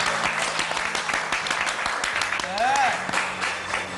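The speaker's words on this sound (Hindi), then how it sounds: "बहुत ताली पीट रहा है।" Steady applause from an audience fills the space, dense and continuous, with a voice cutting in briefly over the clapping.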